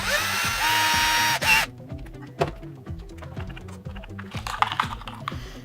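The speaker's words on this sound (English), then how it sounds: "I'm just using the electric drill because it's a lot easier when screw holes are just slightly off." An electric drill driving screws into a damaged RC car whirs loudly for about a second and then stops. Rapid clicking and tapping follow, close by, with faint background noise.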